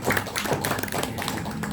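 An audience at a religious lecture gives dense, steady applause, with many hands clapping together at close range for the whole moment.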